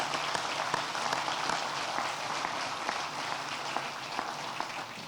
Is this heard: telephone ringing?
no